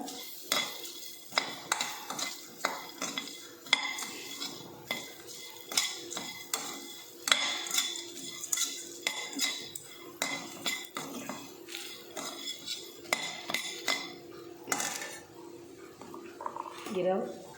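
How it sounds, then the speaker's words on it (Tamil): Spice mixture with turmeric powder being sautéed in a pan over a low simmering flame, a spoon repeatedly scraping and clinking against the pan in an uneven rhythm, with a gentle sizzle underneath. "அடுப்பை சிம்மிலேயே வச்சு நல்லா வதக்கிக்கோங்க."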